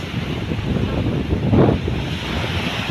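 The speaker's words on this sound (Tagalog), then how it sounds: "Ang lalaki ng alon ngayon" Rough surf rolls against the Manila Bay shore under steady wind rumble during a typhoon, with one larger wave surging and breaking about halfway through.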